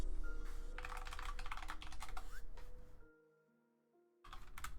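Someone types a terminal command on a computer keyboard while setting up Barrier on Ubuntu, a quick close run of key clicks, a brief pause, then more keystrokes.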